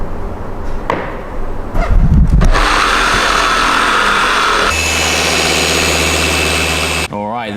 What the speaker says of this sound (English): this is exactly why we go through this stage of buffing the paint